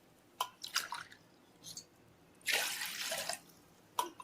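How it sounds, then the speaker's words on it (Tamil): Water splashes into a tumbler in short bursts, a few brief pours and drips followed by a longer splashing stream, close and fairly quiet, no speech. "நான் 4 டம்ளர் தண்ணி ஊற்ற போறேன்"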